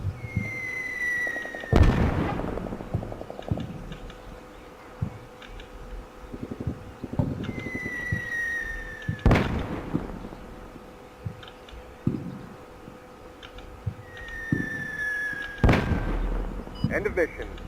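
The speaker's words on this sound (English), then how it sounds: "So just calling down mortars on the enemy ATGM position." Mortar rounds land on an enemy anti-tank missile position in the war game Combat Mission Shock Force, three sharp booming impacts spaced several seconds apart, each preceded by a falling whistle, over ambient battlefield noise.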